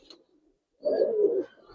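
A single soft, low pigeon coo rises close by for about half a second, with a faint short call just before it and quiet around.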